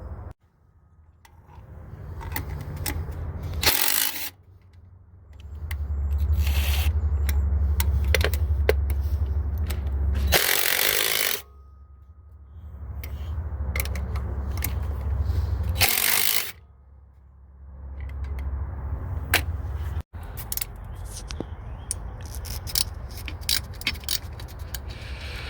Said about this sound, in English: So remove all 4 of those bolts, this bolt, the sleeve here